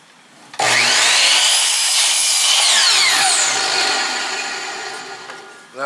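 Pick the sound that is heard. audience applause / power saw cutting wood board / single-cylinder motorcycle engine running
power saw cutting wood board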